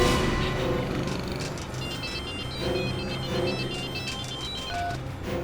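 Telephone ringing during a call, repeated electronic ring bursts in a rhythmic pattern over a dense, noisy background, moderately loud.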